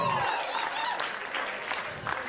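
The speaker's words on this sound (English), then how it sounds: "Round of applause." A comedy club audience at Gotham Comedy applauding during a stand-up set, with a brief stretch of clapping and crowd noise mixed with cheers and voices.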